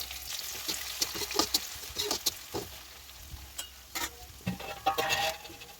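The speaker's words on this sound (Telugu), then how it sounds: "వెల్లుల్లి రెబ్బలు ఫ్రై అయ్యాక ఆనియన్స్ వేసి గోల్డెన్ బ్రౌన్ కలర్ వచ్చే వరకు ఫ్రై చేయాలి." Garlic cloves and onions frying in a pan until golden brown, a quiet sizzle with irregular light taps and scrapes of a stirring spoon, close but fairly soft.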